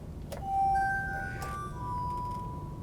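A spoon clinks against a glass bowl while stir-fry sauce is mixed, a few bright ringing taps with sustained tones and a soft scraping swirl in between, close and fairly quiet.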